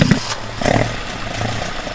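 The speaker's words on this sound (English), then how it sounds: "So we're going to start the engine up." An engine fitted with twin Dellorto/Weber carburettors fires up and settles into a rough idle, a brief burst of start-up noise giving way to a steady low running hum, fairly close.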